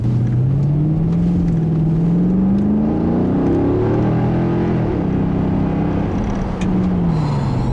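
A 2009 Mercedes-Benz C63 AMG with a 450-horsepower V8 pulls under light throttle, its exhaust a loud, continuous rumble that rises and falls in pitch as it accelerates, with no talk over it.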